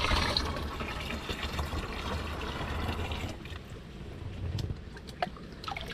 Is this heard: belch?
no